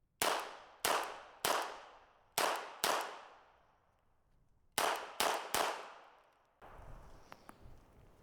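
A Titus Arms TA61 Skorpion VZ61 firing single loud, ringing shots, five spaced apart, a pause, then three more until the last round, each with a long decaying echo, followed by faint handling noise.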